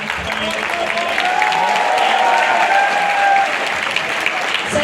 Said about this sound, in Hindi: सर के लिए जोरदार वाली ताली होनी चाहिए इनको